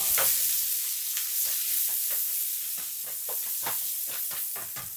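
Sliced onions and shallots sautéing in coconut oil for chicken kondattam, a steady close sizzle with repeated scraping stirs of a spoon against the pan, no voices.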